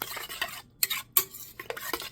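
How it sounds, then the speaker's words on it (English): Ingredients being stirred together in a bowl for a snack, a steady scraping swirl broken by a few sharp clinks of utensil against the bowl, close and alone. "So then you all mix it together so everything is like blended."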